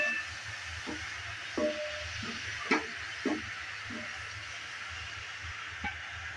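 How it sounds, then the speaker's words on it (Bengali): Cabbage stirred in a hot frying pan, a spatula scraping and knocking at intervals over a soft steady sizzle, close and moderately quiet. "বাঁধাকপিটা দেওয়ার পরেও নেড়ে নিচ্ছি।"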